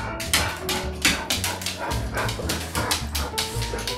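Several excited dogs bark and yip in a busy home kitchen at dinnertime, with repeated sharp barks in bursts over steady background clatter and no talk.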